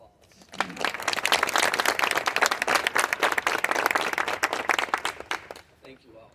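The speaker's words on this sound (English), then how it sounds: "Please join me in giving them a round of applause." A room full of attendees at a school board meeting bursts into sustained applause: crisp, many-handed clapping that swells quickly, holds strong for several seconds, then thins out and fades near the end.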